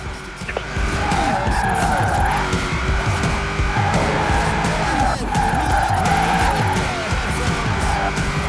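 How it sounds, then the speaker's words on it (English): Car tires skid and squeal while drifting in Forza Horizon 4. The loud, sustained screech rises and falls in repeated sweeps over a constant engine roar. "Now let's really shred those tires."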